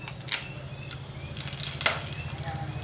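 Whole spices (cinnamon, cardamom, cloves, bay leaf) frying in ghee and oil for vegetable biryani: soft close crackling and light sizzle with a few sharp pops, brief and fairly quiet.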